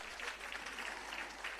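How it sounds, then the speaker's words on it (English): Audience applause at a Jamaican civil service long service awards ceremony, a brief steady patter of many hands clapping at moderate distance. "Give them a round of applause for me"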